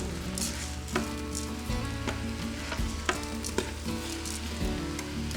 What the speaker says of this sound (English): Now I go ahead and add the barley in right now.